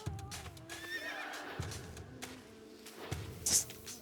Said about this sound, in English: That was a horse, that's true.